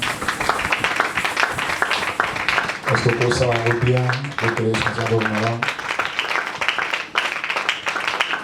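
A church congregation at a Sunday service applauding and cheering for the Lord, loud mixed clapping and calls that build and fade, heard under a speaker's voice and music-like sustained tones.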